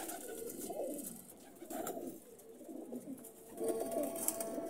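Pigeons cooing in a breeder's loft, a few soft, rolling coos repeating in slow bursts, fairly close against a faint background, with no talking.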